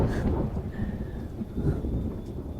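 Rumbling thunder with steady rain in a film scene, a low, continuous roll of thunder over a wash of rainfall, with no voices.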